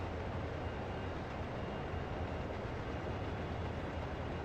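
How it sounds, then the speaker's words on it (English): An intermodal freight train passes in the Train Sim World 2020 video game, heard as a steady, loud broadband rumble and roar that holds evenly throughout, with no talking. "A train has come the other way"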